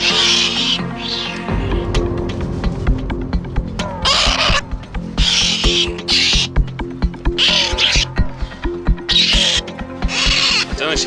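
Herons calling at a nest, a harsh, raucous chorus of repeated croaks and squawks in bursts, loud and close, with brief pauses between calls.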